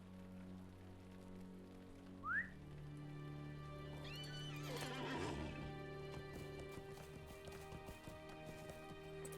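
A horse in a video game whinnies sharply in the middle distance, then its hooves clip-clop steadily over a continuous rain-like ambience and a low, sustained game drone.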